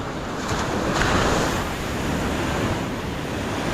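Ocean surf rolls and breaks steadily, with a broad wash of wave noise and some wind buffeting the microphone.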